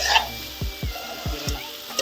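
Sizzling from a frying pan with a few short stirring scrapes at a steady pace, fairly close, no voices.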